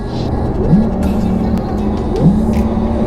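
A Porsche Taycan GTS electric sports car drives close by with a steady hum, and the pitch climbs sharply twice as gears shift, no voices.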